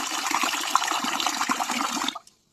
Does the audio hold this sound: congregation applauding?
no